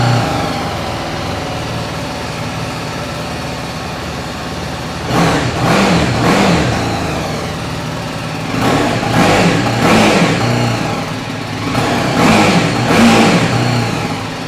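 BMW G310R single-cylinder 300cc motorcycle engine revving in three distinct bursts over a steady idle, each rev rising sharply then falling back, heard close and alone with no talking.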